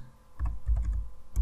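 A few separate bursts of keystrokes on a computer keyboard while an email address is typed, close and fairly quiet with short pauses between the clusters of taps.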